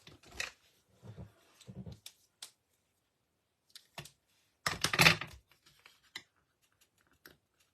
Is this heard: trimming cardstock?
yes